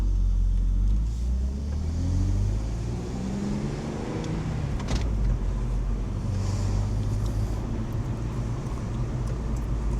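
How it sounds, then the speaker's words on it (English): A BMW's exhaust rumbles steadily while driving, with a low engine drone and some wind noise throughout, heard close and without any talking. "I feel like my exhaust sounds a little bit more authentic"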